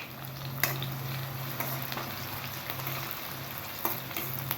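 Onions and green chillies frying in oil for homemade egg fried rice give a steady, close sizzle with a low hum underneath and a few sharp spatters and stirring clicks scattered throughout.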